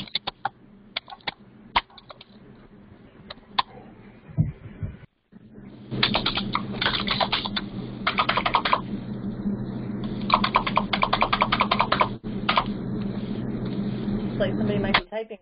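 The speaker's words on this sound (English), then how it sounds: "Looks like somebody might be typing a question here." Computer keyboard typing in bursts of quick, close clicks, with a short pause partway through and louder, denser typing runs afterward, over a steady low background hum.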